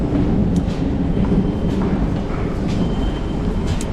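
A Seoul subway train rumbles steadily and loudly, with faint clicks and rattles over the constant low roar of the moving carriage.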